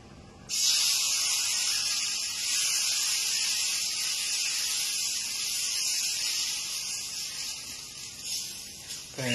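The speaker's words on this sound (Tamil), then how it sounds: "இன்னொரு தோசை நான் ஊற்றி காமிக்கிறேன்." Green gram dosa batter poured onto a hot griddle gives a steady, loud sizzling hiss that starts abruptly and holds for several seconds, close by and alone.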